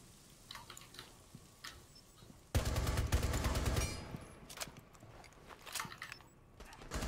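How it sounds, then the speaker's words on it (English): Rapid suppressing gunfire in the tactical shooter Rainbow Six, a dense burst of automatic shots lasting about a second and a half, loud against quieter scattered game noise and clicks before and after. "Suppressing fire."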